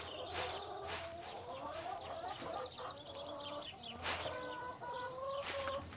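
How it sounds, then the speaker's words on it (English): Hens clucking and squawking on a farm in a barn, a busy overlapping stream of calls with sharper bursts and occasional wing flaps, fairly faint and with no talk. "Just keep a lookout for our silly hens."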